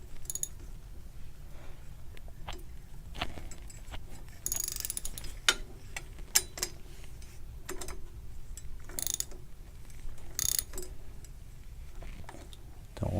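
Ratchet clicking in quick bursts while the cap is tightened back onto a bicycle bottom bracket, close and fairly quiet, with scattered louder clacks of tool contact between the runs of clicks.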